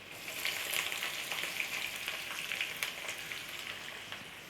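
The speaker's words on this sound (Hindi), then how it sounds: "अभी मैं 2 मिनट फ्राई करेंगे अच्छे से।" Garlic and onion frying in a pan for a teasel gourd curry, a steady soft sizzle with faint crackles throughout, close and quiet with no voices.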